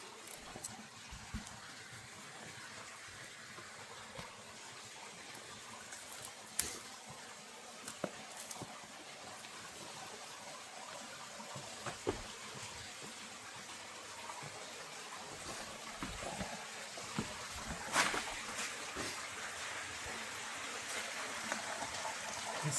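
A small side creek trickles and splashes over granite blocks in the Lost Creek Wilderness, a soft, continuous wash of water with scattered faint drips and clicks.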